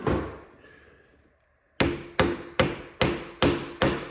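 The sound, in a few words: hammer tapping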